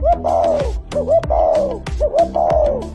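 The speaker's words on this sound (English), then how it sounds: "This is a spotted dove." A spotted dove coos in a repeated rhythmic phrase, three soft mellow calls close by over a faint steady beat.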